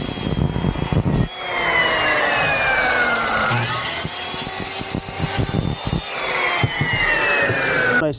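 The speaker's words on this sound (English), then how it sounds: "Got the saw in my hand." A power saw cuts a U shape in wood on a building job, its high whining blade steady and loud close by, with rubbing and grinding texture and short pauses between passes.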